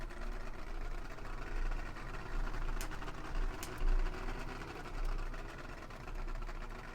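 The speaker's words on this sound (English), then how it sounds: "with me having to drive to the town, you can hear the engine again." A truck engine idles in the MudRunner video game, a low, faint, steady rumble with slight swells, heard alone throughout.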